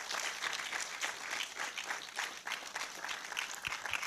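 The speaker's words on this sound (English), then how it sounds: "Keep clapping until she gets here." A seated audience at a summit event claps steadily to welcome a speaker to the stage, a sustained even wash of applause heard from within the crowd.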